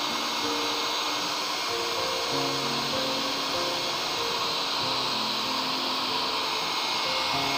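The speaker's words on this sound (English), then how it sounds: "Then blow dry." A hair dryer blows steadily over a decoupage-covered PVC notebook, a close continuous whooshing roar with a wavering hum running at constant loudness throughout, no talk.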